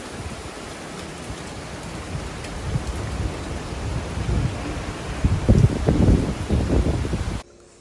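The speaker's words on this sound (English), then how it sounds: "And there's a thunderstorm arriving" Heavy rain pours steadily during a thunderstorm on the rough-sea coast at Positano, Italy, the downpour swelling louder with low rumbling thunder before cutting off abruptly near the end; no one speaks.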